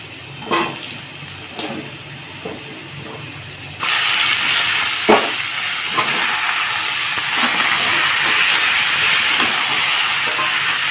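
Pieces of pumpkin and potato frying in oil in a pan, a loud continuous sizzle and hiss that swells sharply partway through, with scattered clinks of a stirring spoon and no talk.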